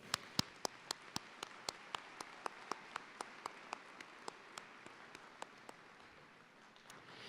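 Audience applause thanking the ushers of the Student Alumni Gold Club at a Ferris State University commencement ceremony: diffuse crowd clapping with one sharp, steady clapper close by, tapering off toward the end.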